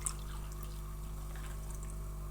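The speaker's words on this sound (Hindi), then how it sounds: "तो 3 कप पानी डालूँगी मैं" Water pours steadily into a cooking pan while sooji halwa is being prepared, a soft continuous trickle that stays faint and even throughout.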